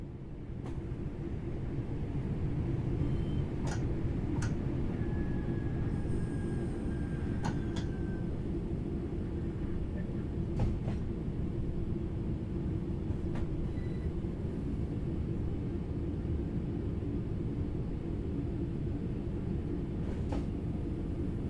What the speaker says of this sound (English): The train's coasting.